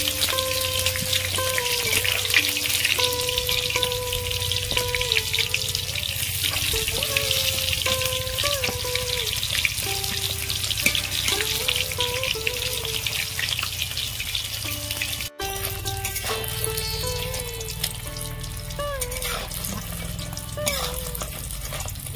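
Battered amudi fish sizzle and crackle in hot oil, a dense steady fry close by throughout with background music, and a brief dip partway through.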